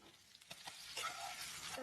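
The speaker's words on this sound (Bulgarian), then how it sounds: "Пържолата гори." A steak sizzles and burns in a hot pan, a steady crackling hiss that swells after the first second, fairly quiet and with no voices.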